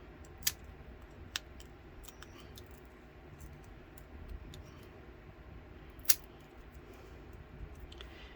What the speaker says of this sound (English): I'm just trimming it.